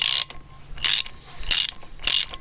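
A Harbor Freight ratchet turns in three quick bursts of close, crisp clicking, each separated by quieter pauses while threads are being fixed.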